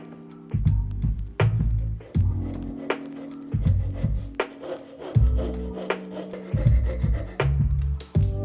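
A belt sander shapes a wooden hand plane in repeated loud bursts of rough abrasive grinding over wood, each pass a second or so long, separated by brief quieter gaps.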